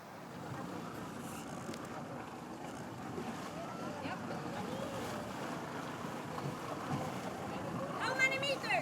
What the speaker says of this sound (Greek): Ναι, είπαν, Χριστό, έρχεται μια βάρκα του λιμεναρχείου, βλέπω από το Μόλιβο έρχεται τώρα.